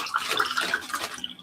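Cold water poured out of an ice tray, a short close splashing trickle lasting just over a second with no speech.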